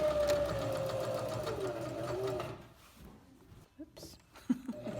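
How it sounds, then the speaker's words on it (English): A sewing machine runs steadily, stitching straps onto a small tote bag, then stops and gives way to softer handling noises and a few light knocks. "sometimes I just get lazy and just keep sewing all the way across"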